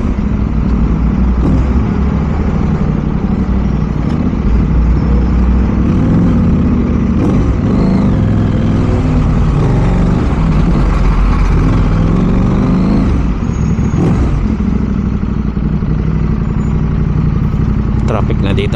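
VOGE motorcycle fitted with a dB killer riding through traffic in Mindanao, a continuous close engine drone with rises and dips as it throttles, surrounded by other traffic noise.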